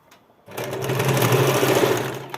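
A sewing machine stitches a cover for a Shanghai-style sofa. After a brief quiet start it runs as a close, loud, continuous mechanical whir for about two seconds.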